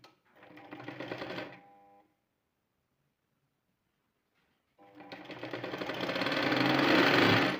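A sewing machine stitches a small tuck into a girl's ready-made blouse, running in two loud, steady bursts separated by a few seconds of silence, with no talk over it.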